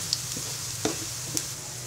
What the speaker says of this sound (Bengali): এবার পেঁয়াজ এবং রসুন কুচিটা চিকেনের সাথে কিছুক্ষণ ভেজে নিব।